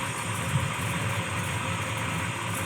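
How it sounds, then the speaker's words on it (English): A big block V8 in a 1966 Chevelle with a mild cam and Weiand intake idles smoothly and steadily, a low, even rumble held close throughout with no talk. "That big block just runs nice and quiet."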